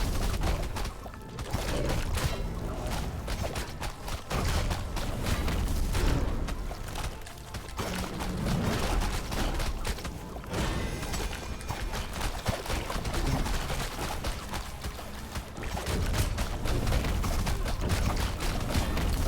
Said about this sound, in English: I do not have a lot of time to deal with explosions.